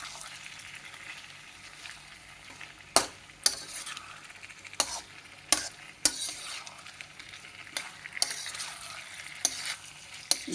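Homemade pasta shaped from bread and carrot fries in a pan with a steady sizzle, broken by sharp clicks and scrapes of stirring roughly every second.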